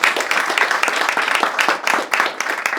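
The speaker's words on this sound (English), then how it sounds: "I just want to give her a round of applause" Dense, loud applause from the room fills a Democratic club meet-and-greet for a congressional candidate, many hands clapping at once in a continuous close wash.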